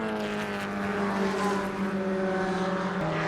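A Formula Sheane racing car engine during a race, a sustained buzzing drone with steady harmonic tones and slight pitch shifts, holding constant and fairly loud throughout.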